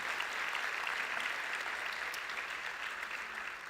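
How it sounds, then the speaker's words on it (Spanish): Audience applause for military service members at a morning community gathering, a steady dense wash of many hands clapping at once, loud and sustained throughout with no talk over it. "un aplauso para todos ellos en esta mañana"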